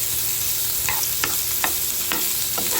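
Onions frying in hot oil for a bitter gourd (ampalaya) dish, giving a steady close sizzle with a few sharp scrapes of a spatula against the pan and no talking.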